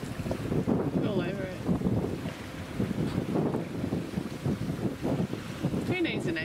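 Sailboat coming into port under sail with no motor, with steady wind buffeting the microphone and water rushing past the hull, while people talk faintly underneath.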